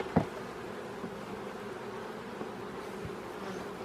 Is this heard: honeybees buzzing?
yes